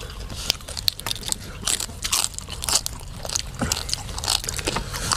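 Crispy skin from a roast suckling pig is bitten and chewed up close, giving loud, continuous crackling crunches with sharp snaps and no talk.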